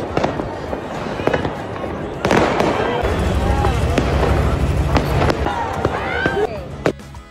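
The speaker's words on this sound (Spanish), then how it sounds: "Ambos presenciaron los fuegos artificiales recibiendo el año nuevo." New Year fireworks in Paris, a rapid string of sharp bangs and crackling bursts over a continuous roar, loud and close with a crowd faintly underneath.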